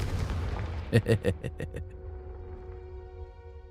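A Confringo spell explosion in the Hogwarts Legacy video game: a quick cluster of four or five loud fiery blasts and crackles, followed by a ringing magical tone that decays. Game noise and speech sit underneath.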